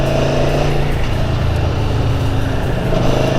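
A 2017 Aprilia Tuono V4 1100 motorcycle engine held at steady throttle in track mode, a loud, continuous and close engine drone with little change in pitch.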